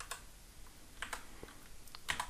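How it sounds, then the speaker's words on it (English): Code being typed on a computer keyboard while programming an Arduino project in C# with Visual Studio: quiet, irregular clusters of key clicks arriving in short bursts, heard alone and close. "I'm going to type, add the following code"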